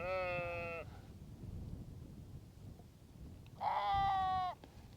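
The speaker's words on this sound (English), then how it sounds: "pretty much all you can hear is the sheep. They're particularly vocal today" Sheep in the Yorkshire Dales bleat twice, a long call at the start and another near the end, over a quiet outdoor background of soft rustling.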